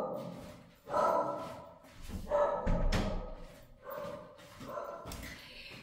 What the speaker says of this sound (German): schon haben wir das Gebell